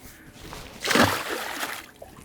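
A 30-inch kingfish released from an offshore skiff splashes back into the sea, one brief close splash with a short slosh of water afterward.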